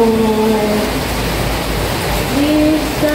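Rain falling during a storm: a loud, steady hiss of rainfall on surfaces fills the clip, with faint tonal background sounds and voices drifting over it.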